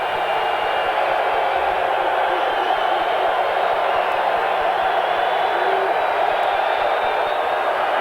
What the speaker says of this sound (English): And the crowd's getting into it.